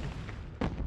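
A Sudden Strike 2 artillery piece fires in a WWII British campaign battle at Oosterbeek, one muffled deep boom landing over a low rumbling background, faint and brief.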